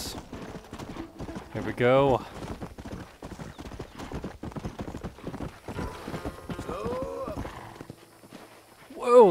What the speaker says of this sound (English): Whoa, look at that horse.